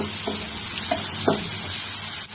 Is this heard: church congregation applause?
no